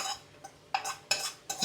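A metal pot used for boiling jaggery syrup is handled, giving four short, close clanks and scrapes at uneven intervals.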